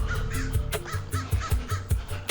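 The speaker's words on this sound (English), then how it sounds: "crows are so obnoxious, I'm not gonna lie. Obnoxious crow." A crow caws repeatedly and loudly nearby in a garden, harsh calls coming in a quick, uneven series with no talking over them.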